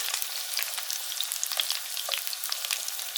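Prawns fry in a hot pan with a steady, dense sizzle and a scatter of small crackles and pops, close and even in loudness, with no voices.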